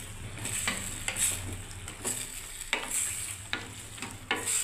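Mixed vegetables for a panchmishali curry are stirred while frying in a pan, with repeated sharp scraping strokes over a quiet continuous sizzle, and no talking.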